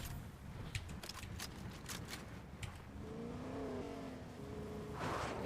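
A car in the video game Fortnite drives and revs, its engine rising in pitch with steady tonal whine under a series of sharp clicks and effects, moderately loud with no talking.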